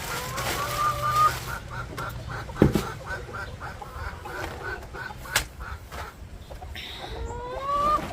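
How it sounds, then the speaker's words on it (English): Bantam chickens clucking amid a backyard flock of hens, with scattered clucks, a sharp squawk and rising cackles over a quiet outdoor background. "I want to say I have 16 hens, big stock."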